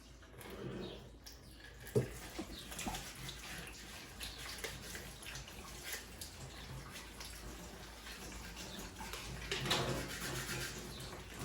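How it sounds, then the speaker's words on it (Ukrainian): Water runs steadily as soil is rinsed off a flower pot, a soft continuous splashing wash with a few brief knocks and surges, heard faintly at close range without talk. "Я обмиваю, аби земля не тряслася."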